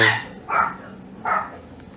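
A dog barks twice at home, two short, fairly close barks about three-quarters of a second apart, with a faint whimpering start just before.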